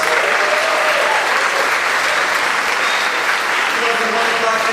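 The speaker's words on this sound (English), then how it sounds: "And then one more round of applause" A crowd applauds the Wellesley Middle School Jazz Band, with loud, steady clapping filling the room throughout, close and unbroken, and a voice speaking faintly underneath.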